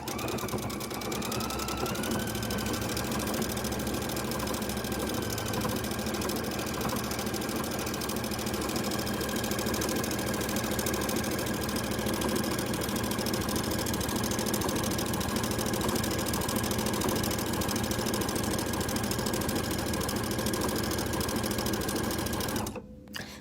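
A Husqvarna Viking sewing machine runs a long, steady stitching pass with a Spanish hem foot, its needle whirring and clattering in an even rhythm, close and alone until it stops near the end.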